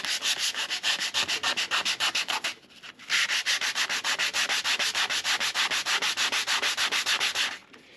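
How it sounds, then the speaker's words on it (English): Hand sanding with sandpaper held in the fingers on a DIY sailboat hull, with fast, even back-and-forth strokes in a steady scratchy rhythm, close and loud, pausing once briefly before resuming. "So let me sand this."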